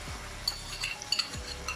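Roughly chopped fresh tomatoes and a canned tomato go into a pot of cooked onions for a Durban-style prawn curry, giving a soft, steady sizzle with a couple of brief stirring scrapes close by.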